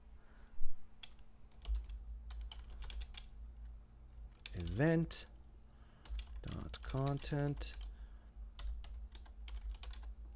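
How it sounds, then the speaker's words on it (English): Computer keyboard typing comes in scattered bursts of quiet, close key clicks, with someone speaking briefly in the middle. "Sorry, my typing with the keyboard kind of sucks."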